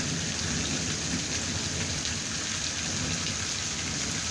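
Steady, loud rain pours down during a warm winter night storm over a flooded yard and ditch, a dense continuous hiss with no talk.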